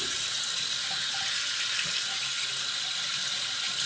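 Rinse water runs steadily from a bathroom tap into a sink after a wet shave, a continuous close hiss that fills the whole stretch without any talk.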